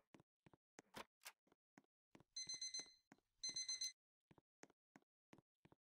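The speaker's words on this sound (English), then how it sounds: "Is that alarm clock I hear?" An alarm clock beeping in two short rapid bursts, with soft clicks and taps of handling between them, close and fairly quiet.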